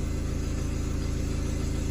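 A Hyundai Matrix with a 1.6 engine and an automatic gearbox with a humming fault idles as it is put into gear, a steady, pulsing low engine drone with a faint hum above it and no voices.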